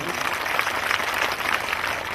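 Dense applause from a crowd at an outdoor devotional bhajan evening honouring saints, steady and fairly loud throughout, with a voice faintly audible beneath the clapping.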